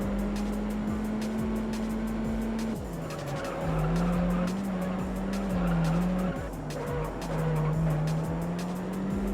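A car in the Juiced racing game spins out and skids, its engine droning steadily while tires screech repeatedly, the pitch dipping and wavering as it loses speed, loud and continuous.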